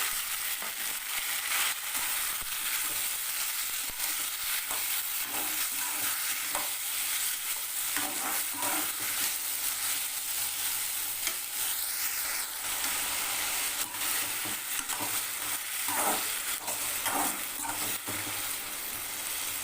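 Tomato sautéing with fried onion and chopped garlic in a pan, stirred steadily: a continuous close sizzle with repeated scraping stir strokes throughout, no talk.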